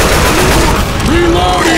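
Dense, loud gunfire in the zombie shooter Left 4 Dead 2, rapid overlapping shots and booms filling the whole stretch with little pause.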